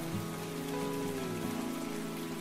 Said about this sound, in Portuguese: Eu odeio chuva.